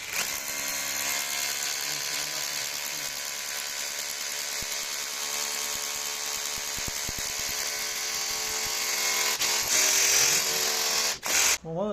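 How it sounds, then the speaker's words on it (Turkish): Makita cordless drill boring a hole, a continuous high whining motor hum with a steady pitch that rises slightly near the end before cutting off abruptly, close and loud. "iyi bir delik açtı"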